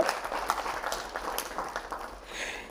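Students applauding at a televised mini-conference, a lighter, uneven patter of hand claps with distinct individual claps standing out, fading slightly toward the end.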